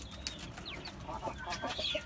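Native chickens clucking on a rooftop, several short soft clucks and chirps close by over a quiet background.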